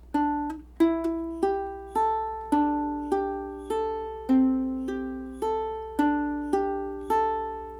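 Plucked ukulele notes ring out one after another in an even, repeating triplet riff from the verse of a song, clear and close with no voices.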